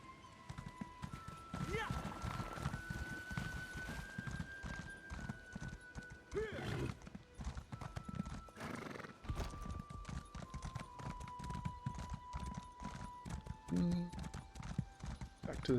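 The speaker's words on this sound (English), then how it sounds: "Get my trusty steed." Clip-clop of a mount's hooves in the video game ESO (Elder Scrolls Online, High Isle), steady trotting rhythm with a whinny, set against sustained background music tones.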